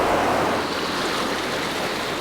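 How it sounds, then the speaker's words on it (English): A large, fast river roars through the world's largest cave, a dense, steady rushing wash of water that is loud and close and fills the whole moment. "a large and fast river now flows through the cave"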